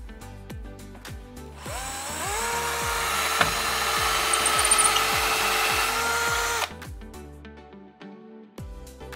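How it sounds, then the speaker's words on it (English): A power drill bores holes into a wall while a day-night blind is fitted, whining steadily at full speed for several seconds. Sharp ticking sounds come before and after the drilling. "then we're ready to drill the final 2 holes."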